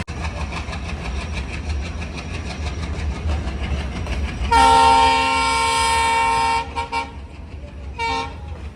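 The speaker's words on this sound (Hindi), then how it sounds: "ये रही गाइस ट्रेन जो कि रास्ता खुल गया है" Train rolling along railway tracks with a steady low rumble and rhythmic clatter, then a loud, sustained horn blast lasting about two seconds, followed by a shorter toot.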